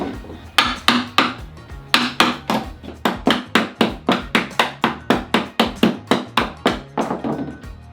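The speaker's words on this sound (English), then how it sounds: "we're gonna chisel it in from the side" A chisel struck into the side of a piece of clamped wood gives a long series of sharp, evenly spaced knocks. The blows are loud and close, with a brief pause after the first few.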